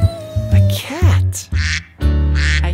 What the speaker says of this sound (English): I hear a duck.